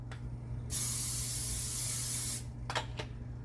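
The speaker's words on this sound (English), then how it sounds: "is just hit it with a little cooking spray." A steady, loud hiss of aerosol cooking spray onto a pan lasting nearly two seconds, followed by a couple of short spritzes, over a low background hum.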